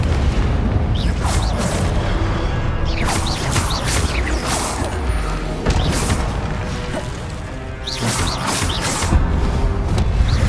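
Confringo blasting spells explode one after another in Hogwarts Legacy, a dense barrage of booming blasts and crashing impacts over game audio that stays loud throughout.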